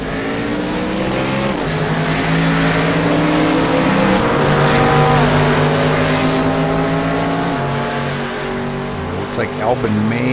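A McLaren and a Cadillac race car roar past at speed on a circuit, engines loud and rising then falling in pitch as they shift, while a commentator talks over the noise.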